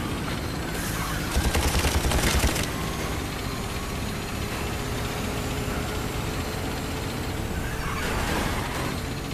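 A toy-like tank firing during a BlazeRush VR micro-racing match: two short bursts of rapid shots, one early and one near the end, over a steady humming engine drone.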